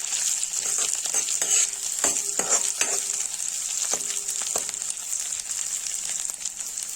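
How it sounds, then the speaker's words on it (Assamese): Onions and green chillies frying in a pan with a bright steady sizzle, punctuated by a series of stirring scrapes and taps from a utensil, close and fairly loud. "পিঁয়াজখিনিৰ লগত জলকীয়াকেইটাও ভালকৈ ভাজি ল'ম"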